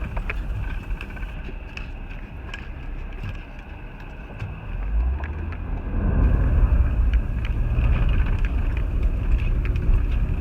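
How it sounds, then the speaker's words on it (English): Car passing on a rutted dirt road near a backpacking trailhead, a low rumble swelling from the middle and staying loud to the end, mixed with wind buffeting the microphone. "Oh, there's a car."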